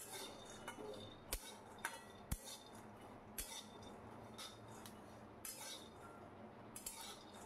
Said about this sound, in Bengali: বাদামটাকে সুন্দর করে ভেজে নিতে হবে